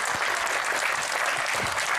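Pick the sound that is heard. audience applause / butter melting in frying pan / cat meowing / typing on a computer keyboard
audience applause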